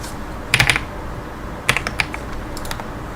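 Code tapped out on a computer keyboard in two short bursts of crisp keystrokes separated by a pause, close and clear with no talking.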